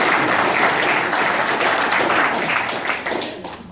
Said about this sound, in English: So we can have a little round of applause.